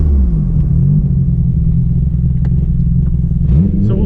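A Nissan R32 GTR fitted with upgraded Brembo brakes drives while the new brakes are bedded in, giving a steady, loud low engine and road rumble heard from close by, with no talking.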